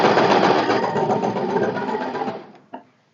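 A sewing machine runs fast, stitching a boat neck A-line kurti in a rapid, even mechanical chatter for over two seconds, then slows and stops, followed by a single soft click.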